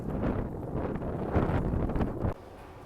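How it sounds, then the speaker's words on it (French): Light wind blows outdoors in the city, buffeting the microphone with a steady rumbling rush that drops off abruptly near the end. "Mais là il y a un petit vent."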